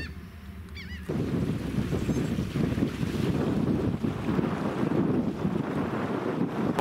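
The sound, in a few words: wind on open water from a boat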